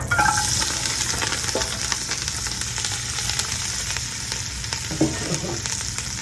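Mirepoix vegetables for a seafood bouillabaisse sizzle and crackle steadily in a hot pot, an even close frying hiss with occasional soft stirring scrapes and no talk.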